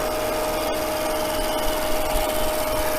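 Skew chisel taking a smoothing cut on wood spinning on a lathe, a steady rough shaving hiss over a constant motor hum, close and even throughout, with no talk.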